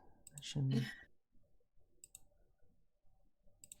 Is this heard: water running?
no